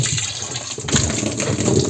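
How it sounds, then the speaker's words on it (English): Running water pours steadily while laundry is rinsed by hand, a continuous splashing gush that swells louder partway through, with no talking. "So I want to rinse all that. So let me just rinse it."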